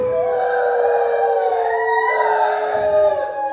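A human voice imitates jackals howling in a Hindi children's story, a loud, sustained, wavering howl that rises and falls for several seconds with no other sound.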